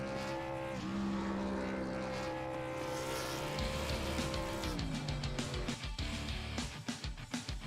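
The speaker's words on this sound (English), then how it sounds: "We're going to burn it down on the front stretch." Race truck in a Michigan truck-series racing game revving hard in a burnout, a loud sustained engine roar with shifting pitch that breaks into rough, choppy pulses near the end.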